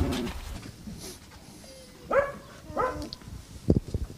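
A stray dog of about two or three years, being readied for surgery in a mobile operating room, gives a few short whimpering yelps, fairly close, amid quiet room noise.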